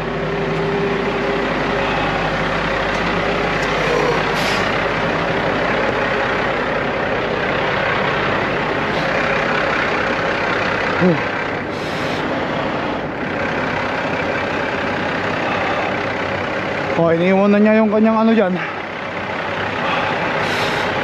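A heavy truck rumbles steadily as it sets off for the shop, with engine noise, a brief hiss of air and a short rising whine near the end, while someone speaks briefly over it.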